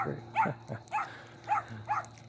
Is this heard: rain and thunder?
no